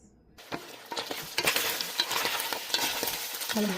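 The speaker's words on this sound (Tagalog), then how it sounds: "Lalagay na natin ang bawang, sibuyas, at kamatis. Isasabay-sabay na natin siya" Garlic, onion and tomato sizzle together in hot oil for dinuguan, a Filipino pork stew, with steady frying crackle and repeated scraping stirs of a utensil against the pan.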